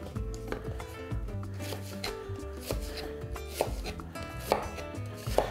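Two small onions sliced into feather-shaped strips for a mushroom pasta topping, the knife tapping a board in quick, uneven bursts of close, crisp cuts over soft background music.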